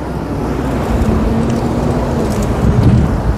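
Steady roar of heavy road traffic on a street behind an officetel building leading toward a commercial area, many cars passing nearby in a continuous wash of engine and tyre noise with no talk.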